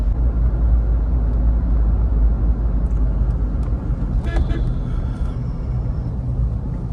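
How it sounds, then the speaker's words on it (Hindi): Road traffic in a jam, a loud, constant engine rumble with passing vehicles, plus a brief cluster of higher horn-like tones and clicks partway through. "आगे ट्रैफिक जाम लगा हुआ है"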